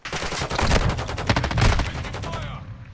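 Rapid gunfire in Call of Duty aimed at a lamppost, a dense burst of loud repeated shots lasting a few seconds and then cutting off.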